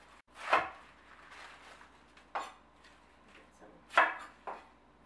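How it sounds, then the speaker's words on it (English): Knife cutting through a cabbage and splitting it apart while preparing spicy beef and vegetable soup, giving a few sharp crunchy chops with pauses between them, close and fairly quiet, with no talking. "halfway down the cabbage, you just want to cut that and then split it apart."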